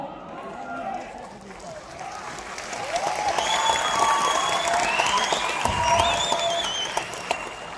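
An audience at a Safe Shop leadership speech event claps in a sustained, dense round of applause that swells midway and holds. A voice speaks over it throughout.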